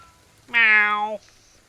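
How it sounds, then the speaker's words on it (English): A single clear cat meow in Ghostwire: Tokyo, short and tonal, rising then holding before cutting off, close and alone over near silence. "Have you led me to a cat?"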